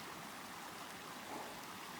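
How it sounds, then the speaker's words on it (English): A small side creek beside a mountain hiking trail on Green Mountain in the Rockies, flowing steadily with a continuous rushing, burbling wash of water, close and even throughout with no talking. "Here's that creek. This isn't Dyson, this is just a side creek."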